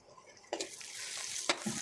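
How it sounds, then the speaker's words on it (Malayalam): Clam meat with crushed pepper sizzles in a frying pan while a utensil stirs it, with two sharp scraping strokes over the steady frying hiss. "നല്ലോണം ഇളക്കി കൊടുക്കണേ"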